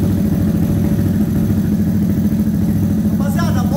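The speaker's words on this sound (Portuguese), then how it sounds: "moto ligada" A 160cc motorcycle bored to 205cc idles close by on a dynamometer with a steady, throbbing low rumble and faint mechanical clatter throughout.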